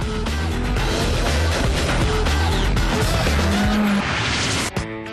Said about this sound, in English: The Lancia Delta S4 is one of the most unusual rally cars of all time.